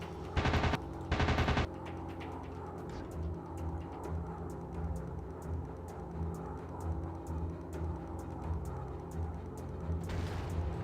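Aircraft machine guns fire in the Warplanes: WW2 Dogfight PC game, two loud rapid bursts early on and another near the end over a steady engine drone with scattered distant shots.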